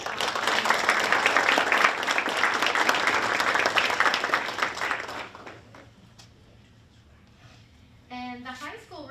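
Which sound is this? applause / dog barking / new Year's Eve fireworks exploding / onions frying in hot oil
applause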